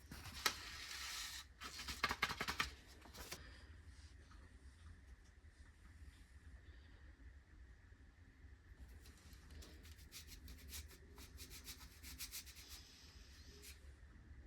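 Seeds being scarified by rubbing on sandpaper while preparing them for winter sowing, heard as faint, scratchy bursts of rubbing, strongest near the start and again toward the end, with no voices.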